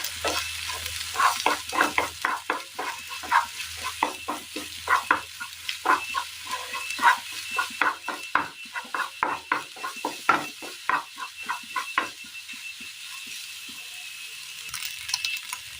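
A spatula stirs beaten egg into masala in a pan for an egg masala, giving rapid rhythmic scraping and tapping strokes over a faint sizzle, slowing and thinning out toward the end.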